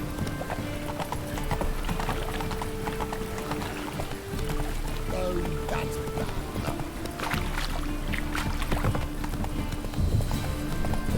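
Galloping hooves pound steadily as the horse Roach runs in The Witcher 3, with a brief whinny amid continuous game ambience and music.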